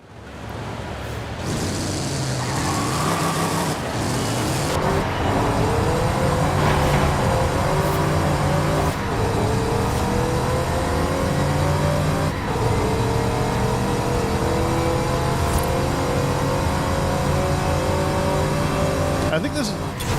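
Modified car engine in Forza Horizon 5 revving through rising and falling pitch sweeps, loud and continuous for the whole stretch, with someone talking over it at times.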